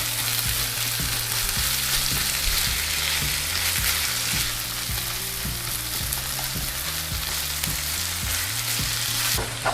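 Tofu frying in a pan for a vegan tofu scramble sizzles loudly and steadily from start to finish, with a few stirring scrapes and no one talking.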